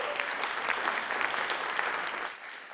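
An audience at a school district State of the District event gives guests a round of applause, steady, fairly faint clapping that fades near the end.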